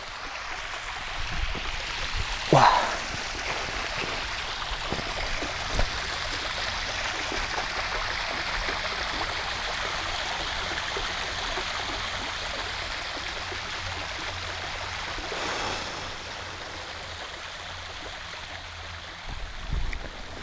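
Waterfall at the top of Sanseong 12 Falls on Dutasan mountain, a steady rushing wash of water heard from nearby for the whole stretch, with a few brief knocks and bumps and no talk.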